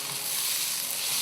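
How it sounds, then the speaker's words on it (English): Steak searing in olive oil on a hot barbecue hot plate, the oil frying vigorously around the edges without spattering; a steady, close, continuous sizzle with no talk. "the olive oil is frying vigorously around the edges but not spattering"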